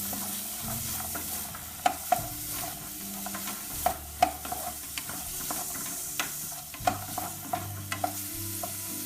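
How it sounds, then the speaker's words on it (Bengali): Vegetables and shrimp fry in a little oil in a pan, a steady sizzle broken by repeated clinks and scrapes of a spatula as they are stirred, close and without talking. "তেল নিয়ে সেখানে আমরা ভেজিটেবল এবং শ্রিমটা দিয়ে দিব অল্প আছে কিছুক্ষণ ভাজি করব"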